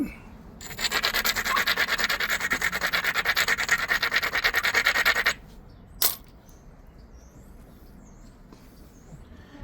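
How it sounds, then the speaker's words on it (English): Glass Buttes obsidian being ground along its edge during flintknapping, a loud, steady gritty rubbing for about five seconds, then a single sharp click and near silence. "I'm just gonna brush it, raise the edge up, grind the piss out of it."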